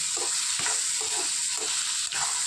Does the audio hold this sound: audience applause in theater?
no